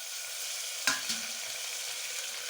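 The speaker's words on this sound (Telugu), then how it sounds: "ఇప్పుడు దీంట్లో సన్నగా తరుక్కున్న టమాటాలు" Finely chopped tomatoes frying in a pan for mutton curry: a steady soft sizzle throughout, broken by one sharp clack and a quieter knock from the pan.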